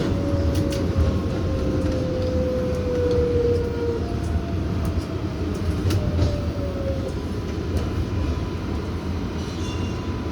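A Bronx-bound R142A 6 local subway train runs in New York near 103rd Street, a loud steady rumble and roar with a rising then falling motor whine and faint high squeals, heard from inside the car.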